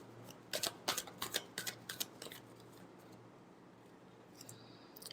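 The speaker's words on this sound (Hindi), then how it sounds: "last shuffle" Tarot cards being shuffled, a quick series of about eight crisp riffling snaps close by, followed by quiet with faint rustling.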